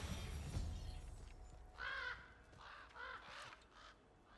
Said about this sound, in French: Le corbeau.